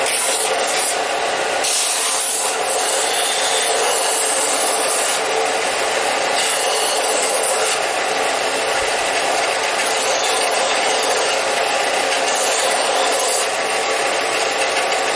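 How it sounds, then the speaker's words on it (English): Power sander working the wood of a child's rocker: a close, continuous loud rasping hiss that holds steady the whole time, with small surges as the pressure shifts. "You could do this with any sander, or you could do it by hand."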